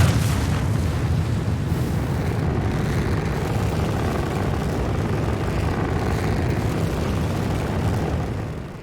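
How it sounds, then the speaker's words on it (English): Ares Ion spaceship engines in the game Star Citizen, a loud continuous deep rumbling roar with a broad airy hiss, sustained steadily and close throughout before easing slightly at the end. "these engines sound absolutely insane"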